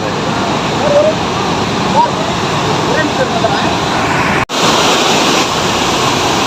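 Pykara Falls pours down in a steady, loud roar of rushing water, a continuous wash with no clear breaks.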